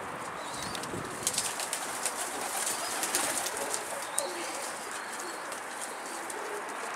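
Hundreds of pigeons coo softly amid a dense outdoor bird chorus, with occasional bursts of wing flapping as birds take off, steady and continuous throughout.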